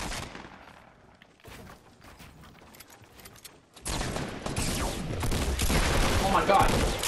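Assault rifle fire in Fortnite starts with sparse, quieter shots, then breaks into loud, rapid bursts of close gunfire that last to the end.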